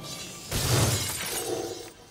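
Glass shatters in the video game Dead Rising 4, a sudden loud crash of breaking panes with bright tinkling debris that settles within about a second, with no talking.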